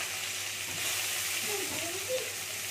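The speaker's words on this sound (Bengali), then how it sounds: "এখানে আমি পেঁয়াজটা কুচি করে রেখেছিলাম ছোট ছোট করে, আর এইটাকে আমি ভেজে নিচ্ছি" Steady, loud sizzling of chopped onions frying in a pan, a continuous hiss with faint crackles and no talking.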